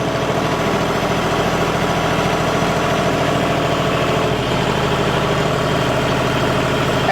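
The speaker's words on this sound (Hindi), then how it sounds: "अब मैं आरपीएम कर लेता हूँ इसके 1600।" A tractor engine runs steadily at 1600 rpm with its draft lever at the fourth point, a loud continuous idle-like drone with a low throb, holding even throughout with no voices.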